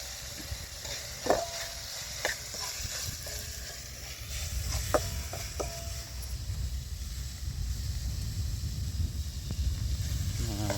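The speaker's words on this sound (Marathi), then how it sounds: "आपला चांगला तेलामध्ये टोमॅटो आणि कांदे झालेले आहेत परतून. आता मसाला टाकणार आहे." Tomatoes and onions fry in oil with masala stirred in, giving a steady sizzling hiss broken by scattered pops and scrapes of stirring, close and continuous throughout.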